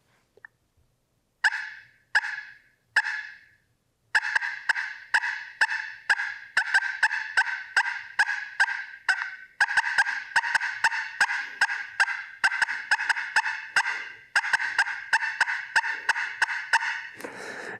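A turkey pot call plays a loud, aggressive cut: rapid bursts of sharp, clucking notes, a few isolated calls at first, then long, fast, rhythmic runs, close and clear against silence.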